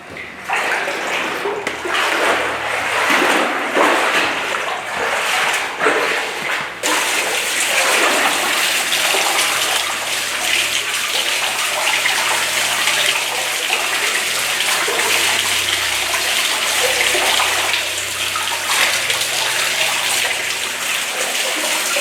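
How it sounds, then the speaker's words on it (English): Footsteps wade through water inside a New Zealand cave, giving continuous close sloshing and splashing with a brief lull early on. "this is what it sounded like when I walked through the cave"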